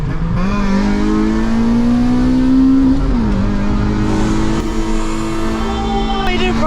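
A Honda engine revs hard with VTEC, a loud, steady, rising drone that climbs, dips briefly and holds high again, close and continuous throughout, with faint voices under it.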